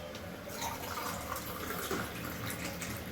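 Three glasses of water are poured into a pot for barley water, giving a steady, even splashing flow that runs without a break and without any voices.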